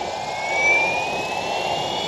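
An Align TB60 electric RC helicopter's motor spools up at low head speed, a steady close whine rising slightly in pitch over a broad rushing hum of the rotor.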